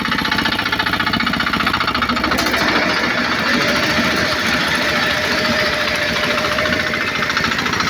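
A homemade automatic bean thresher runs steadily, with a loud, close mechanical rumble and rapid rattling clatter that holds constant throughout without pause. No voices are heard.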